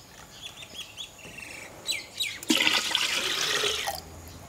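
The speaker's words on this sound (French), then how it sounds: "Et on va combler avec de l'eau." Water pours steadily into cooled sweetened tea for ginger beer, a loud rushing stream lasting about a second and a half after a few faint chirps and small splashes, then stopping abruptly.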